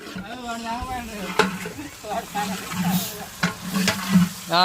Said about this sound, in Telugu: సాంబార్కి పోపు పెడుతున్నాడు తాలింపు పెడుతున్నాడు